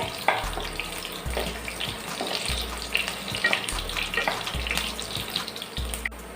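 Mustard seeds and chopped green chillies frying in hot oil, a steady crackling sizzle with sputtering pops that hold close and even for several seconds, no voices.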